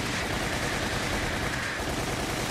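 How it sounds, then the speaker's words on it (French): Rapid machine-gun fire from the video game Resident Evil: The Umbrella Chronicles, a dense, continuous burst of shots that stays loud and unbroken throughout. "Je vais prendre la mitrailleuse plutôt."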